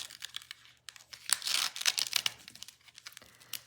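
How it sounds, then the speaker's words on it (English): Ribbon is fed through a gift tag and pulled and tied on a Valentine chocolate treat, giving a close, continuous crinkling and rustling with quick scratchy brushes and a longer drawn-out pull in the middle. "I'm going to feed the corner of this ribbon through and just pull it through like this."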